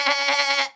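A human voice imitates a sheep bleating, giving one short, wavering nasal "baa" that is loud and close, then cuts off abruptly.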